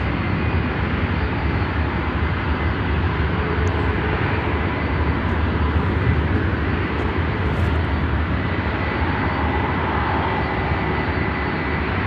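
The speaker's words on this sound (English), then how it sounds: "Next inbound, United Flight 1868, Airbus 320, coming in from Vancouver in Canada." A United Airlines Airbus A320 comes in to land at Chicago O'Hare, its engines a loud, continuous broadband roar that holds steady throughout, with no talk over it.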